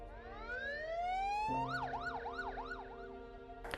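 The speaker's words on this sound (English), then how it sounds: "we'll get an ambulance on the way." A siren rises in a long sweeping wail, then switches to a fast repeating yelp that cycles steadily, loud and close, with a low engine rumble beneath.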